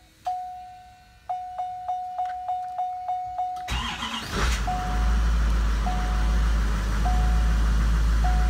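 A 2013 Blue Bird Micro Bird bus on a Chevy chassis with a 6.6 liter Duramax diesel makes a cold start. A string of warning chimes is followed by cranking, then the engine catches into a loud, rumbling idle while a chime keeps repeating.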